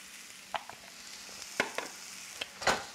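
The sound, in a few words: sliced mushrooms and onions frying in a pan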